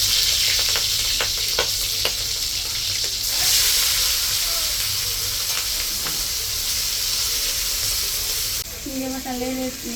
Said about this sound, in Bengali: চিংড়ি মাছটা ভাজার জন্য ভেজে নিমু, তেল দিয়ে দিলাম।